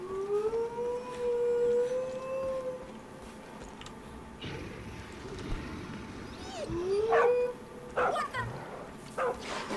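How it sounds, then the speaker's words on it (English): Wolves in the video game Far Cry 5 howl and yip in rising, siren-like wails, with a long howl at the start and sharper barks and whines later, fairly close and loud, with a brief startled voice. "You're bad evil wolves, trained to kill."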